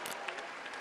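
Crowd applause for Zelensky's speech, a short burst of dense, fairly faint clapping with no voices over it.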